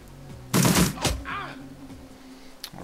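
Gunfire from a two-attack burst in the game Shadowrun Returns cracks out as a quick loud volley of shots, followed by a fainter trailing report, close and alone.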